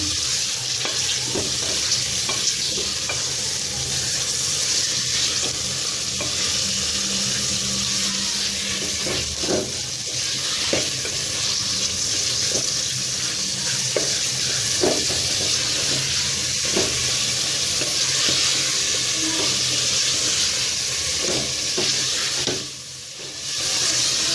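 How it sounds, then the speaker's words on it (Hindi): Minced meat frying with ginger garlic paste for aloo keema, a steady loud sizzle with scraping stir strokes throughout, no talking. "अब हम इसके अंदर कीमा ऐड करेंगे और कीमा ऐड करने के बाद हम इसे अच्छे से एक दफ़ा मिक्स कर लेंगे।"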